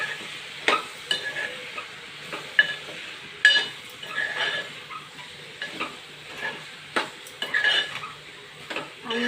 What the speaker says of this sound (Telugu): వేసేసి మళ్ళీ ఒకసారి కలిపేసుకుందాం